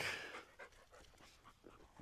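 A happy dog pants softly in quick, uneven breaths, close by and fairly quiet, with no voices.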